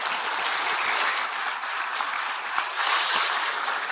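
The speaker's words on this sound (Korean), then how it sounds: "당선자 여러분들 지금 박수 쳐주는 것은" A crowd claps steadily and loudly, a dense sustained round of applause that swells slightly toward the end.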